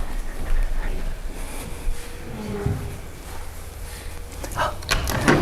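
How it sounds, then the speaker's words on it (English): A door being closed indoors during a quiet yoga session, a brief muffled thud and shuffle amid faint room noise, with a short burst of movement near the end. "Maybe we should close the door just to keep the noise out."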